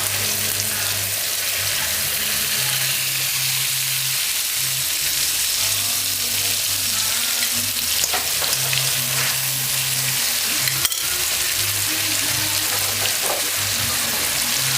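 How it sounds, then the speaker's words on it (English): Curried chicken pieces fry with a steady loud sizzle in a pan while a spoon stirs them gently, occasional scrapes and a sharp knock breaking through the continuous hiss. "And use a spoon and stir. Just barely stir."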